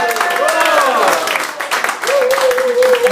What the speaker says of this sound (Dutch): Nog één applaus voor de jury van Pan.